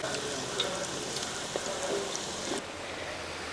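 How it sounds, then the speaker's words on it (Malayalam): Cauliflower pieces frying in hot oil, a continuous close sizzle with fine crackling pops that holds steady throughout. "ഇനിയും നമുക്ക് കുറേശ്ശെ ഇതുപോലെ തന്നെ വറുത്തെടുക്കാം"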